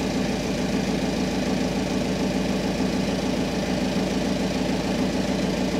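Steady, loud drone of a Mitsubishi S6R2-PTA-S six-cylinder marine diesel rated at 1020 hp, running aboard a Vietnamese fishing vessel, with a dense rapid knocking rhythm held at constant level throughout, close up and with no voices.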